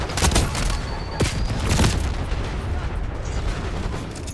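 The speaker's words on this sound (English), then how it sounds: "Authorizing napalm strike." Napalm strike in Call of Duty Black Ops 6, a dense run of booming explosions and crackling fire with a few sharp blasts, loud and continuous amid game noise.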